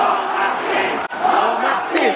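A large, dense crowd at the 2016 Miss Universe coronation night roars and shouts loudly and continuously, with a brief drop in the middle before the cheering surges back.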